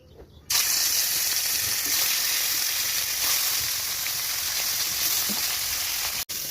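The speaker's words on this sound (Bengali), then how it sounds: "এদিকে কড়াইতে তেল গরম হয়ে গেছে একদম ভালোভাবে। ঝটপট এবার মাছগুলোকে ভেজে নেব।" Fish rubbed with salt and turmeric drop into hot oil in a wok and break into a loud, even sizzle that starts abruptly and holds steady, with a short break near the end.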